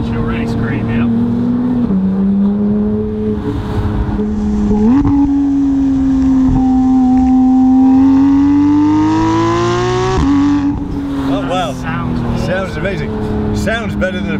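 Porsche 911 GT3 on its stock exhaust, revving loudly with a strong, steady engine tone that rises and falls across several blips, while people talk over it throughout.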